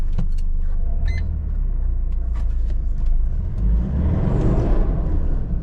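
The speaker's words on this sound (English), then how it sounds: "Engage the four-wheel low." A Nissan Pathfinder with a four-wheel-drive fault shifts into four-wheel low, giving a few sharp mechanical clicks and clunks over a steady low engine rumble, followed by a louder swelling drive-train whir.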